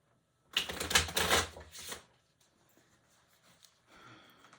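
A deck of tarot cards is shuffled with a brisk riffling flutter lasting about a second and a half, followed by faint soft handling noises.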